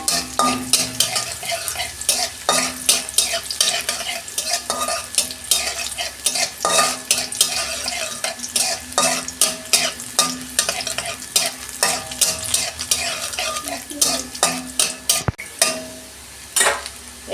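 Whole cumin seeds and chopped garlic frying in a pan, with a steady sizzle broken by frequent scraping and stirring clicks of a spoon against the metal, close and fairly loud throughout with no talking.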